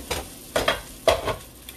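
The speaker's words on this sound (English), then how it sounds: "I'm going to continue to stir these green beans up as they continue to saute and cook" Green beans sautéing in a pan while being stirred, with soft sizzling under three or four distinct scraping stirs, close and moderately quiet with no voices.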